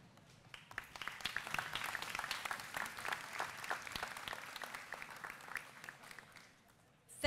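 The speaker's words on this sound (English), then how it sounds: "let's give them a round of applause" An audience at the Vineland High School moving-up ceremony claps steadily for several seconds, a dense patter of many hands that fades toward the end before a final loud burst.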